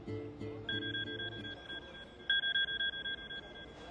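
A phone rings for an incoming call with a repeating electronic two-tone chirp in short pulses. It is fairly faint, and a low musical background fades out as the ringing starts.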